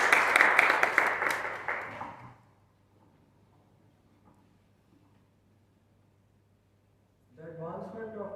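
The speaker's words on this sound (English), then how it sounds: "Please welcome these guys with a big round of applause" Audience clapping at a bilingual debate competition as speakers are welcomed, a short burst that fades after about two seconds, followed by quiet hum and then a voice speaking.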